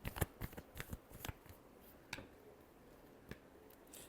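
Tarot cards are shuffled by hand in a quick series of soft riffling flicks, close and fairly quiet, thinning out into a few isolated snaps.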